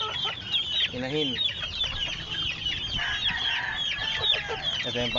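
A hen in a small backyard coop clucks repeatedly and close by, with other chickens chattering around it in a busy, continuous flock murmur.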